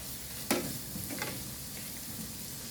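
A spoon stirs melted spaghetti sauce in a pan over a soft steady sizzle, with one sharp scrape and a few lighter strokes close by.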